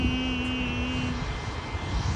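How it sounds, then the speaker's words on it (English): A private jet flies overhead at a plane-spotting mound, a loud continuous engine roar with a steady whine, filling the scene without any talking. "It's a private jet."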